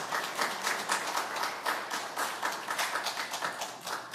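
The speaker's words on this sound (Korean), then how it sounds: "박수 해주시기 바랍니다" Church congregation clapping during a Sunday worship service, a lively rhythmic burst of many hands in unison-like pulses, fairly close and loud, with no talk over it.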